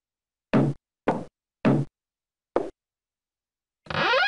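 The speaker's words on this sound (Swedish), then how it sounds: "Knacka på." Someone knocks on a blue door four times with sharp, evenly spaced raps. A short pause follows, then a different sustained sound begins.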